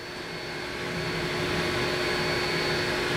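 The exhaust fan of a Gluwphy all-in-one 20W laser cutter and engraver sucks out air with a loud, steady rushing hum that swells slightly at the start and then holds constant.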